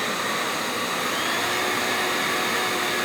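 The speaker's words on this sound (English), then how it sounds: "I like to move out the old hairdryer, cook up the egg from the outside" A hair dryer blows continuously in a kitchen, a loud, even rushing whir with no pauses or changes.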